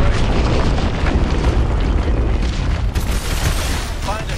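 Missiles strike hard points on a hydroelectric dam in Call of Duty: Advanced Warfare, producing dense, continuous rumbling booms and blasts close by, with a voice speaking over the barrage.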